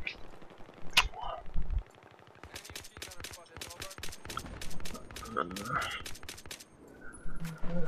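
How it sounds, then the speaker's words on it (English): Automatic gunfire from Battlefield 3 as suppressive fire, in dense rapid bursts of close, loud shots with gaps between volleys, mixed with game effects and other in-game sounds. "I'm laying suppressive fire, and hopefully I could get some points off this"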